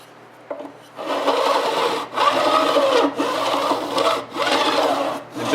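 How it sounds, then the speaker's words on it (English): A hand file is run back and forth along guitar frets to bevel their edges: loud, close rasping strokes, about five of them in a steady rhythm with short pauses between, and no talking. "run it back and forth along the frets, and I'm just going to do this until the frets have the bevel that I'm looking for"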